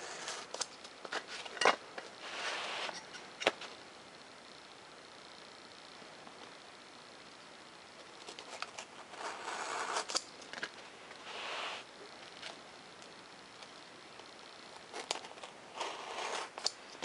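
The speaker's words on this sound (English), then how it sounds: "you're going to want to put your razor knife at a pretty good angle when you cut into these" Razor knife slicing foam board parts for a small model UAV plane on the back of a carpet, quiet scratchy cutting strokes coming in short bursts with pauses, close by.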